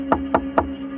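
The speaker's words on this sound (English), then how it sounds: "The silence was broken by a tap at the door." Three sharp knocks on a door in a shabby hotel room, evenly spaced and close, over a steady low hum, with no voices.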